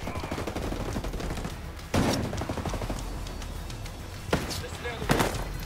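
Gunfire rattles through a firefight in the video game Ghost Recon Breakpoint, Red Patriot DLC, with a steady spray of shots and a few sharper loud bursts. A player talks over it.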